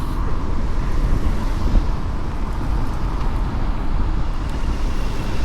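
Street traffic in central Vientiane, Laos: a steady, dense roadside rumble of passing cars and engines with wind buffeting the microphone, continuous throughout with no clear speech.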